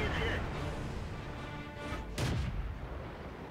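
A tank shot strikes a T-50-2 and blows off its track in World of Tanks, a single loud crash over a constant rumbling background, with a voice talking through it.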